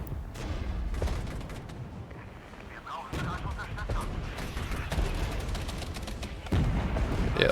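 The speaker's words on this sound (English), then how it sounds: "So I'm going to call in artillery" An artillery barrage pounds away in the war game Regiments, with booming impacts and crackling gunfire layered into a dense, steady battle din, a voice talking underneath throughout.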